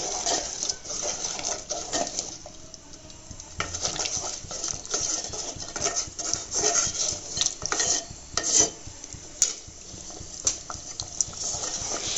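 Mutton curry with yogurt and ground nut paste stirred in a pot, continuous scraping and clinking of a spoon against metal over a soft sizzle, steady and close.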